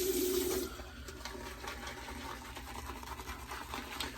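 A shaving brush swirled in a shave bowl as water is added while lathering before a head shave, giving a steady close wet churning and swishing with a brief louder splash at the start.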